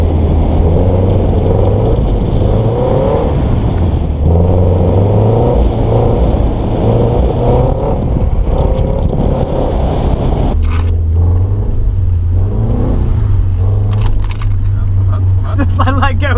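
Car drifting on track at Oulton Park, a loud engine revving and surging in pitch through the corner, with a drop and rise in revs partway through, while people talk inside the car.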